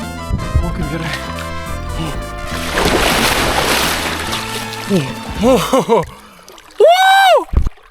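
Someone splashes into a river while paddleboarding, water churning and sloshing in bursts for several seconds, with excited voices and shouts over the splashing.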